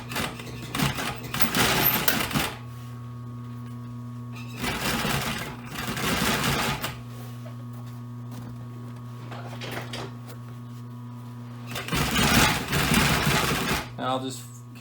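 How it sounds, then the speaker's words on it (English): A sewing machine top-stitches binding onto carpet for a boat floor, running in three separate loud bursts of rapid stitching, with a steady background hum and quiet pauses between runs. "let's start with top sewing this down"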